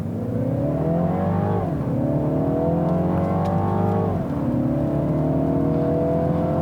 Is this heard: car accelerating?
yes